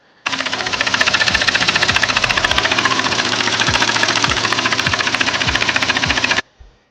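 Loud, steady mechanical clatter from an Audi 3.0T engine with a failed rocker arm, a rapid rhythmic ticking knock running continuously for about six seconds before cutting off abruptly.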